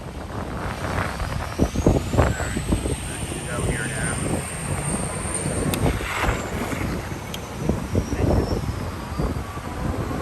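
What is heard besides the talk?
strong wind on the beach in Fort Lauderdale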